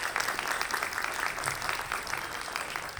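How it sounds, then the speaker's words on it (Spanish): An audience at a book presentation at a book fair breaks into sustained applause, a dense, steady patter of many hands clapping at moderate loudness for the full span with no pause. "les pido el más caluroso aplauso, por favor"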